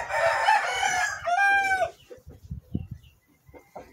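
A rooster crows loudly and close with a long strained call, followed by softer clucks and scattered barnyard noises.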